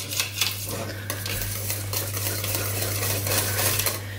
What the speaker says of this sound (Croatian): Promiješajte samo da se on lijepo otopi.